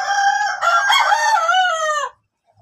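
An SBR gamefowl rooster crows once, loud and close, in a long wavering cock-a-doodle-doo lasting about two seconds before cutting to near silence.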